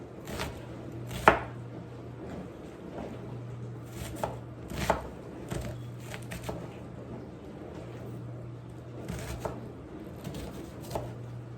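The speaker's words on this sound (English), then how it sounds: "Go ahead and slice that up real quick." A knife slices through a piece of onion on a cutting board, with a handful of sharp, separate chops spaced irregularly over a quiet kitchen background and a low steady hum underneath.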